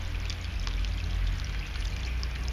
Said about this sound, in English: This is a small lotus fountain, 13 inches in diameter, hand-sculpted from volcanic rock in California.